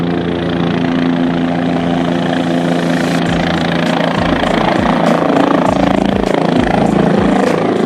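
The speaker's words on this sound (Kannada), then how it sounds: "ಜನ ಸಾಗರ ಹೆಲಿಕಾಪ್ಟರ್ ಕೊಂಡ್ರಲ್ಲ." Helicopter at the Basava Utsava festival in Basavakalyan, its rotor thudding in a steady, loud, close pulse over the broad noise of a large crowd.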